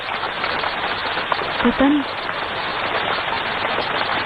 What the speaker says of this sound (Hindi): शायद बारिश हो रही है।